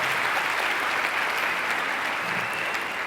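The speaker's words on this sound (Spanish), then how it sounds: "Un aplauso, por favor" Sustained applause from a large conference audience at a drug policy forum, steady and dense across the whole stretch, with a faint murmur of the crowd beneath the clapping.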